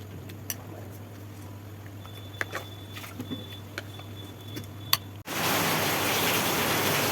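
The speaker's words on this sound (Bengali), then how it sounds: "বাইরে কিন্তু প্রচণ্ড জোরে বৃষ্টি পড়ছে আওয়াজ তোমরা শুনতে পাবে" Heavy rain falling outside a home kitchen: a quiet room with scattered small taps gives way after about five seconds to a sudden loud, steady wash of rain.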